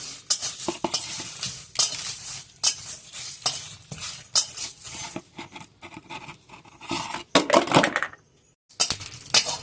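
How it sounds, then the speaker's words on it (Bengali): Dry spices — bay leaves, dried red chillies, coriander and cumin — roasting in a dry wok, stirred with a utensil that scrapes and clatters in irregular bursts, with faint crackling and a short pause near the end. "এখন আমি একটা মশলা ভেজে নেব"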